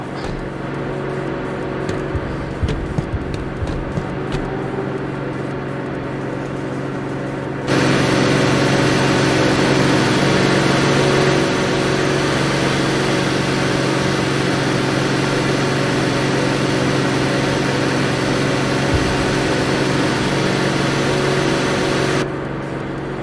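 Vehicle engine running in the naval strategy game Carrier Command 2, a steady low mechanical hum that grows louder and brighter partway through, then drops back near the end, continuous with no talk.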